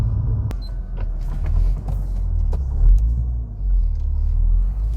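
Interior of a 2004–2008 Acura TL driving slowly through a U-turn, with a low steady road rumble swelling and easing and a few faint clicks and creaks inside the cabin.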